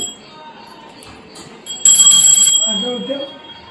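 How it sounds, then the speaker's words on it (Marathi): A small brass puja bell rings with a bright metallic jingle for under a second during home Ganesh worship, then its tone fades amid a quiet room with soft background voices. "ही घंटी"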